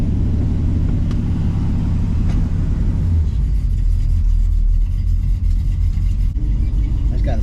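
A 1966 Chevrolet Chevelle with a 327 V8 and 700R4 transmission cruises along, its engine rumbling steadily and loudly up close, with the road drone easing slightly partway through.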